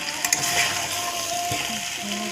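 Vegetables sauté in a pan with a steady sizzle and a few light clinks and scrapes of stirring, close by and with no talking.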